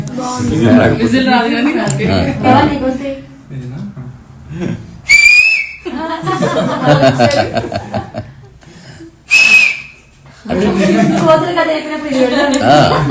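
Two short, sharp whistles ring out between stretches of people talking and chuckling.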